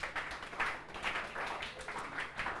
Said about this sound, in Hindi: वेरी गुड, ताली बजाइए इसके लिए।